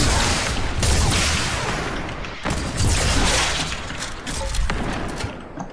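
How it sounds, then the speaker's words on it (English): Gunfire rattles through a squad-based video game match: dense, loud bursts of shots and booming impacts crowd together almost without pause, with only brief dips between volleys. "Someone is shooting from northwest."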